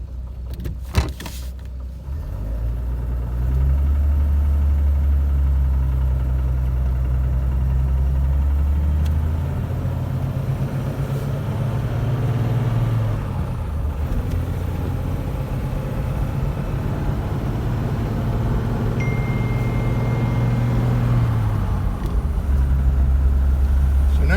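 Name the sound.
1946 Dodge with Fluid Drive transmission driving in high gear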